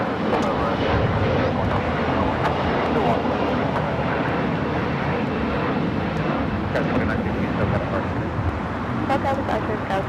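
A Boeing 787 Dreamliner taxis at LAX toward the crowded West Gates, its engines a loud, continuous roar with road traffic mixed in and people talking underneath.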